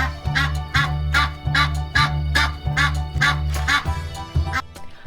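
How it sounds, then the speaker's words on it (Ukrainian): Goose honking in a repeated rhythmic series of loud, close, nasal calls, about a dozen in quick succession with brief pauses, alone without talk. "Гуска каже га-га-га, га-га-га."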